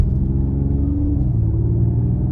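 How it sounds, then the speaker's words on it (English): Mercedes-AMG GLE 53 Coupe, a 2024 model, in Sport Plus mode: a steady, deep exhaust rumble heard from inside the cabin while driving, with a low drone that stays even throughout and no talking. "I have it in sport mode now, Sport Plus, just to really get a taste for the exhaust"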